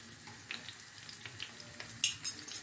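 Vegetable bourek frying in oil in a pan, a quiet steady sizzle with soft pops and occasional clinks of a utensil, louder crackles near the end.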